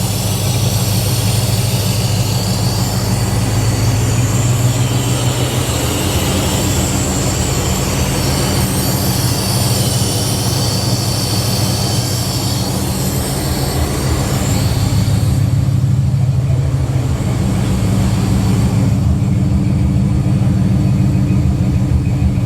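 A 455 big block V8 in a G-body car idles steadily after being fired up, a loud, constant low rumble close by that holds throughout with no talk.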